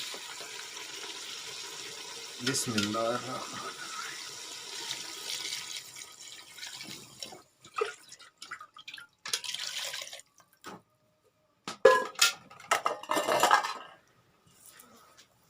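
Water is poured into a pot of aloo gosht made with potato and meat, giving splashing and dripping with clinks of pots and utensils in bursts, and a brief spoken word near the start.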